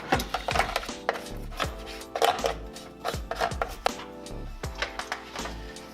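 Rapid, rhythmic toothbrush scrubbing strokes scrape and knock against a hard filter tray up close, in quick repeated bursts.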